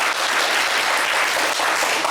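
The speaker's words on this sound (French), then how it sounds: "On vous applaudit très fort." A TV game show studio audience applauds loudly, with dense clapping that stays even for about two seconds and no talking over it.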